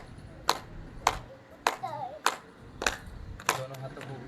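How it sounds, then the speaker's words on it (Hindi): People clapping with both hands raised overhead during a morning outdoor yoga session: sharp, evenly spaced group claps land about every half second, with a voice talking faintly underneath. "दोनों हाथों को ऊपर उठाते हुए ऐसे ताली बजाइए"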